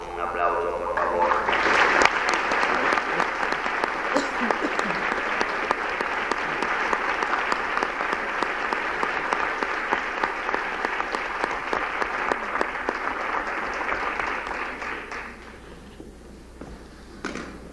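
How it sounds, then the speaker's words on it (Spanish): A theatre audience applauds a director in a long, dense ovation that holds steady for about fifteen seconds before fading away, with some voices mixed into the clapping. "para quien pido un aplauso, por favor"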